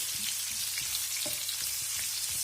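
Onion braising in a pan with meat, a soft continuous hiss of frying and gentle bubbling, close and steady, with no speech.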